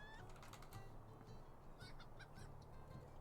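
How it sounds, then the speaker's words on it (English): Chicken noises from a video game: repeated nasal honking clucks overlap in a steady busy chorus, fairly close and continuous, with no talking. "Because I can't take the chicken noise."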